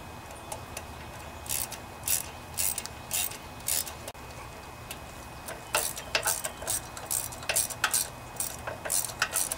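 A ratchet with a Torx bit tightens a bolt on a Briggs and Stratton 19.5 twin-cylinder engine, making bursts of quick, close metallic clicks separated by short pauses.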